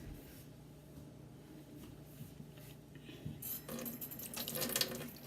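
Carrots for a chicken stew rinsed under a running kitchen tap, a soft steady trickle at first that swells into a louder, brighter gush of water splashing in the sink over the last couple of seconds.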